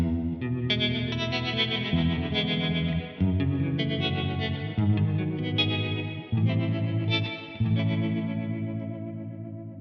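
Electric guitar chords pulse rapidly through a fast setting on a Kernom Elipse tremolo pedal, the volume throbbing in quick regular waves as the chords change every second or so.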